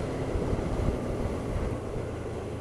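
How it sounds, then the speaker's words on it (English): A Honda VFR800 Crossrunner 800cc motorcycle's engine and exhaust give off a steady, moderately loud broadband rumble for a few seconds, with no talk over it. "A bit more noise from the engine and exhaust,"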